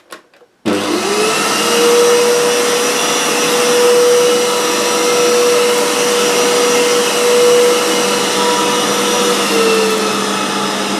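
A Hoover U3456 Purepower upright vacuum cleaner starts up after a short silence and runs on carpet. The motor holds a loud, steady whine with slight swells as the cleaner moves, and no voices are heard.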